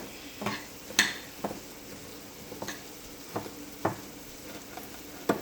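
A spoon stirs a Jamaican-style ground beef taco mixture in a frying pan, giving irregular scraping strokes over a soft continuous sizzle, close by with no voices.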